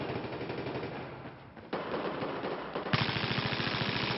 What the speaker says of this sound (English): Darrenath whipping out his pistol to finish off Rambo